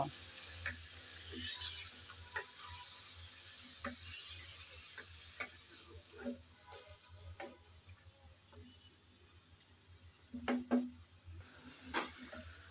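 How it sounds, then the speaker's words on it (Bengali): Marinated yogurt chicken being stir-fried in a pan, with soft sizzling and scattered scraping and clinking of a spatula against the pan, a few louder knocks near the end, fairly quiet and steady throughout. "ম্যারিনেট করা মাংস দিয়ে কিছুক্ষণ নেড়ে চেড়ে ভালো করে কষিয়ে নেব।"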